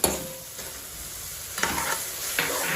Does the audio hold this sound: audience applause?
no